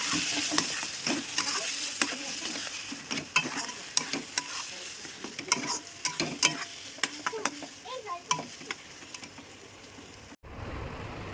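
Pointed gourd curry with ginger and garlic being sautéed in a pan: continuous frying sizzle with frequent sharp spatula clacks and scrapes, close and busy, ending abruptly near the end.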